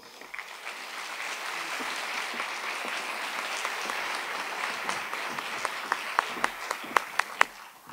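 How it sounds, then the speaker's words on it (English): An audience in a theater applauds, a dense wash of clapping that builds and ends in a few loud, isolated claps near the microphone. "Another round of applause for them"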